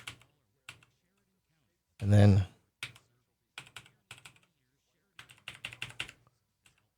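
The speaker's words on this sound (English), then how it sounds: "Move my keyboard here. I'm typing sideways." Someone types in short bursts on a computer keyboard, the clicks quick and close with gaps between runs, and a brief spoken remark cuts in.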